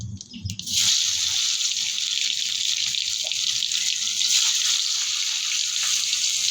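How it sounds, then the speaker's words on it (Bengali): Potatoes fry in oil with dried chili, cumin and bay leaf, giving a strong, continuous hissing sizzle that starts after a brief clatter. It stays steady and close, with no voices. "এগুলো ভাজা হওয়ার সময় একটু লবণ দিয়ে দেবো।"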